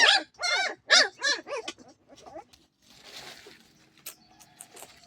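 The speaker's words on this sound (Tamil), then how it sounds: "எதுக்கு குலைக்கிறீங்க?" A black dog barks several times in quick succession, loud and close, then quieter whimpering and rustling noises follow.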